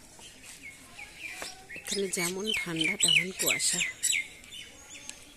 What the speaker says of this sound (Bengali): পাখির আওয়াজেই আমাদের ঘুম ভেঙে যায়